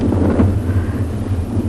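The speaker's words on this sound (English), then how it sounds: "You can hear that the wind has picked up quite a bit." Strong wind gusts over a dam on a safari reserve, a loud, rumbling roar of wind buffeting the microphone that swells and eases without pause through the short stretch.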